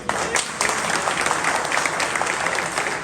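Dense, loud applause from a crowd at a political speech, sustained and even throughout with no voice on top.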